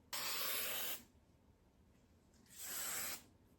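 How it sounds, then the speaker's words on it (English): Two separate hissing bursts from an aerosol hairspray can sprayed onto hair, each about a second long, close by with quiet pauses between. "We want to spray it again."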